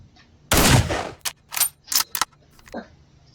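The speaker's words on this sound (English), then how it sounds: "the firearm itself is so flipping loud when it fires" A single loud sniper rifle shot, an M24 or M14, fired at a distant target, followed by a few sharp clanks and clicks of handling the rifle.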